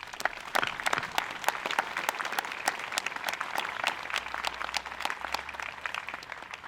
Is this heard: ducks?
no